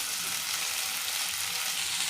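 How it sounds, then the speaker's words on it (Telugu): Raw prawns fry in hot oil for a curry, giving a loud, steady, close-up sizzle with faint stirring. "వేయించేసుకోవాలి."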